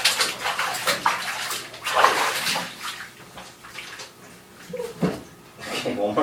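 Running water rinses soap off a wet cat in a bathtub, splashing and trickling in uneven bursts close by while someone talks over it.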